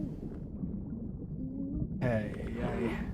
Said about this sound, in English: I'm starting to drown